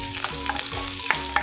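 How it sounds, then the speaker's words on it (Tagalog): Garlic and onion fry in hot cooking oil in a wobbly, unbalanced pan, a quiet close sizzle with a few soft stirring scrapes and taps, no voices. "Pag mainit na yung mantika, lagay na natin ng garlic. Sama na rin si onion."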